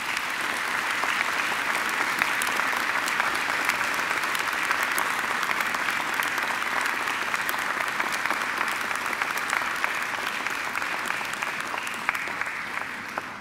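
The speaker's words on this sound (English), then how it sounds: "And now I ask you to give them a mighty round of applause." Graduation ceremony audience gives sustained applause, dense steady clapping from a large crowd that holds at an even level throughout without letting up.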